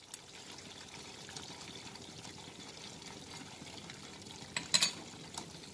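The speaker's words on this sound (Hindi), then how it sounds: "इसमें हम पानी डालेंगे, जितनी आपको प्यूरी रखनी है उस तरह से आप इसमें पानी डालिए" Water poured into a masala of ghee-rich cream puree for a lauki paneer kofta curry cooked without garlic or onion, a soft steady trickle under faint kitchen noise, with a brief splashy burst near the end.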